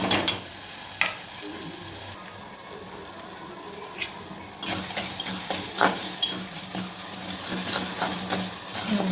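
Tomatoes sautéing in a pan with salt: a steady close sizzle with occasional clinks of stirring that grows louder and brighter midway, with no speech over it.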